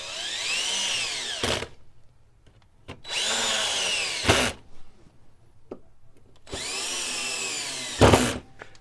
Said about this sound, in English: I use a screw gun to put in my screws